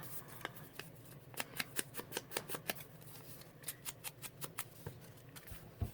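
Scissors trim paper for a small handmade notebook in a run of crisp, regular snips close by, each cut distinct and quiet, with short pauses between groups of cuts and no voice.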